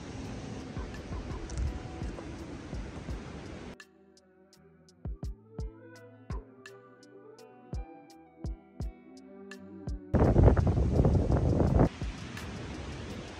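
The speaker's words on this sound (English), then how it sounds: "I don't know how well you can hear me because of all the wind." Strong wind blows at sunrise by the ocean in Uruguay, a broad rushing roar that drops out mid-clip to leave a plucked, picked melody before the gusts return louder.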